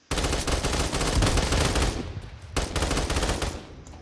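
Rapid bursts of automatic gunfire from gamepass weapons in the Roblox video game, loud and nearly continuous, with a short pause before another sustained volley that tails off.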